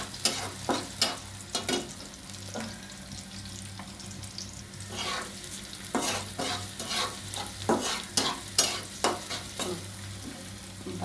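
Onions sizzle and fry in a pan while a utensil scrapes and stirs in repeated sharp strokes, the steady hiss of frying running underneath throughout.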